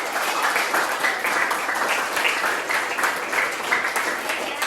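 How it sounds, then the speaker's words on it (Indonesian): Students clap together in a classroom after a lesson, a dense, steady burst of applause filling the room for several seconds at close range, with some voices mixed in. "beri tepuk tangan buat semuanya"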